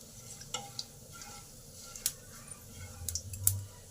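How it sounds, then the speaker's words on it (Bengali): Half a spoon of whole cumin and two dried red chilies fry in hot oil, a faint, quiet sizzle broken by a few sharp clicks and scrapes of a spoon stirring in the pan. "জিরে আর লঙ্কাটাকে একটু ভালো করে ভেজে নেব কয়েক সেকেন্ড।"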